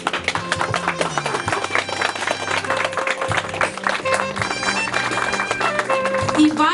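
Guests clap steadily at an outdoor wedding ceremony in Lviv, the applause moderately loud and continuous under background music and a voice speaking.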